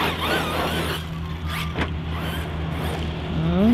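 A Team Magic Seth desert RC buggy on 6S power with Badlands 3.8-inch tires whines and squeals as it drives, its electric motor rising and falling in pitch over rough ground, with a sharp rising whine at the end.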